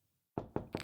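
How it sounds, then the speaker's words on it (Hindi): Three firm knocks on a house door in the early morning, loud and close, evenly spaced after a moment of quiet. "दरवाजा ठोक के नींद खराब कर दी मेरी।"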